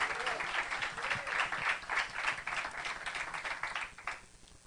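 A church congregation at an Easter service applauds warmly, a sustained wash of many hands clapping that swells, then fades toward the end, with voices mixed in.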